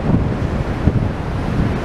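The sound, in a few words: wind on Blackpool Central Promenade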